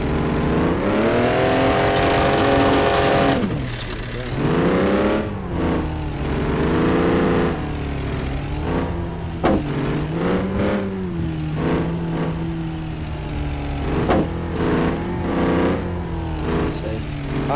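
Off-road vehicle in the Offroad Outlaws video game drives through a rock park, its engine droning steadily and rising and falling as it revs, loud and continuous throughout.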